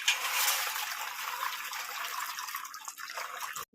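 Water pours steadily with a bright splashing rush for a few seconds, then trickles off and stops abruptly, close and fairly quiet.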